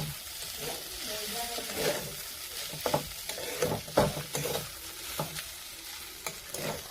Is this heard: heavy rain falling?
no